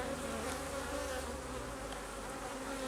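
Honeybees buzzing steadily around an open hive, a continuous, faint hum with no voices.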